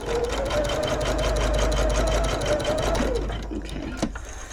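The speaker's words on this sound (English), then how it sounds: "Now let's sew the other corner of our patchwork side. And again, you just sew straight across it." A sewing machine runs steadily for about three seconds, stitching straight across the corner of a patchwork fabric bag, its rapid needle rhythm loud and close before it slows and stops with a couple of small clicks.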